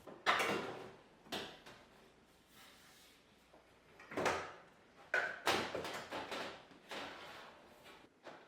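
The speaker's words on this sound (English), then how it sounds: "You'll then be able to slide the front door panel down and away." The outer front door panel of a Bosch dishwasher is slid down and away, giving a series of quiet scrapes, knocks and plastic clicks spaced irregularly, close by with no talking.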